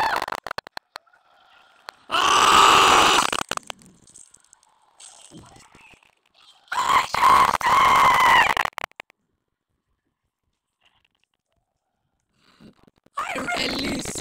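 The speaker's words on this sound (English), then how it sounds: "I release SCP-96. Now he's screaming." SCP-096 lets out shrieking, wailing screams in an SCP horror game, in two long harsh bursts with quiet gaps between and another starting at the end.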